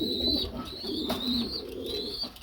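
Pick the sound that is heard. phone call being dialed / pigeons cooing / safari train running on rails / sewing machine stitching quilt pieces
pigeons cooing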